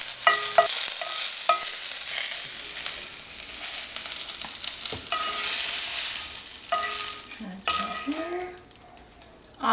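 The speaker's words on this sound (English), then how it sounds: "Just a light saute in light oil to cook them" Mushrooms sautéing in a little light oil sizzle steadily and loudly up close, with occasional utensil clinks and scrapes against the pan as they are stirred, and a brief voice near the end.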